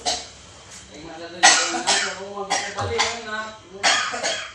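Several harsh coughs burst out in quick succession, close and fairly loud, with a voice murmuring in between.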